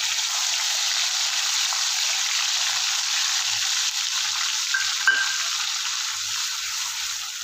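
Raw onion paste fries in oil for pav bhaji, a loud, even, close-up sizzle that hisses steadily with one brief scrape partway through and no speech.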